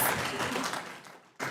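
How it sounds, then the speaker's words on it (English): Applause from an audience at a University of Nairobi staff performance awards ceremony in 2025, a dense burst of clapping that fades briefly and then swells again, heard alone without talk. "A warm round of applause once again for Professor"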